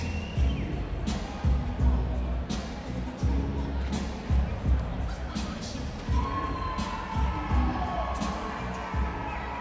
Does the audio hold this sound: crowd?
yes